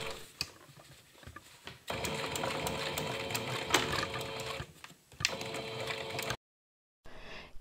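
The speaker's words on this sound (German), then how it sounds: "Wo man mit der Nähmaschine nicht mehr nähen kann, dreht das Nähgut um und steppe letzte Zentimeter vom links ab." A domestic sewing machine stitches along a denim jeans pocket in fast, steady mechanical bursts, close and loud, starting and stopping between runs with a short silent gap near the end.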